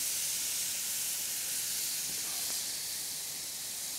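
A salmon steak sizzles steadily in a well-heated pan, a loud continuous hiss with no talking.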